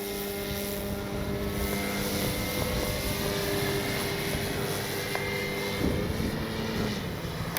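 A Hangar 9 Valiant RC airplane with a 20cc gas engine drones steadily in flight, a continuous propeller buzz with harmonic whine held at fairly even loudness, a slight swell near the end.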